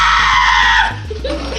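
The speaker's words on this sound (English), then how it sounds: "We may have been watching goats scream like humans" A goat screams in a loud, human-like wail that holds for nearly a second before breaking off into quieter noise.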